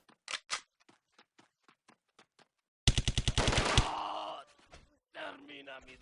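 Delta Force video game gunfire: sparse single shots, then a dense rapid automatic burst followed by fainter shots, with a brief voice-like groan mixed in.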